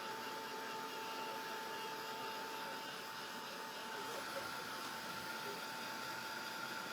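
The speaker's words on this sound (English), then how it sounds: "I love the quiet dryer," A hair dryer blows steadily with a constant whooshing rush and a thin whine, running alone without pause.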